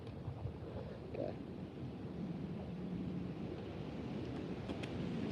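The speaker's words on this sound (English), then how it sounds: "Such a windy day today." Wind blowing beside a private pond on a gusty day, a steady low rumble and buffeting over the microphone with no talking, fairly faint throughout.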